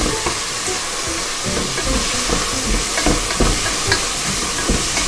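Handfuls of fresh mint and coriander leaves sizzle and crackle steadily in hot ghee for ghee rice, with brief scraping stirs breaking through the dense frying hiss throughout.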